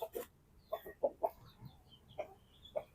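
Free-range village chickens cluck in a series of short, separate calls of moderate loudness, with brief pauses between them against a quiet background.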